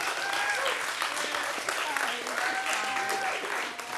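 Audience applause at a young water professionals debate, dense steady clapping from a crowd filling the whole stretch, with faint voices mixed in underneath.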